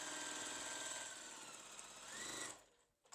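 A sewing machine stitches quilt block fabric with a fast, continuous mechanical whir close by, running steadily before stopping abruptly near the end, followed by brief quiet.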